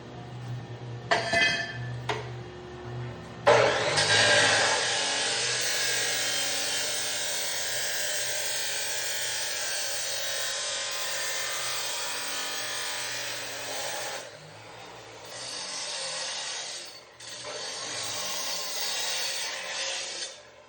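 A power saw cuts through a custom van's exhaust pipe, giving a loud, steady grinding rasp that runs for about ten seconds, dips briefly, then resumes in two more shorter passes, with a few clinks of metal beforehand.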